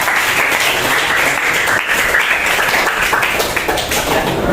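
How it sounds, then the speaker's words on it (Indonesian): A crowd applauds loudly and continuously, a dense patter of many hands clapping nearby with no pauses. "Berikan tepuk tangan dulu Pak Aira."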